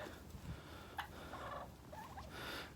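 Turkeys on a homestead gobble in faint, quick bubbling bursts at a distance against a low background hiss.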